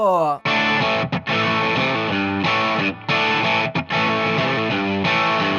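The opening riff of a rock song on a distorted electric guitar, a loud, dense, driving two-chord figure with short choppy breaks, following a brief spoken count-in.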